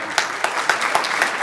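A crowd claps at the grand opening of the Lynnwood Neighborhood Center, with steady close applause and a few sharp individual claps standing out in a quick rhythm.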